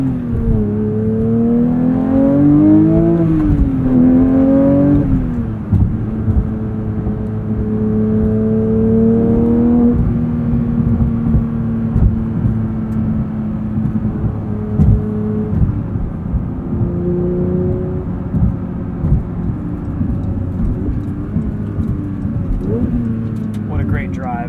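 Close in-cabin engine drone of a Porsche 911 GT3 with a manual gearbox on the road, pitch rising and falling through revs and gear changes while someone talks over it.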